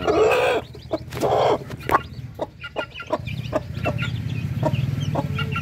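A hen clucks in a steady run of short calls among her newly hatched chicks, loud and close at first, then softer clucks and faint peeps over a low hum of the yard.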